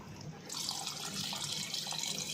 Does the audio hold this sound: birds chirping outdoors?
no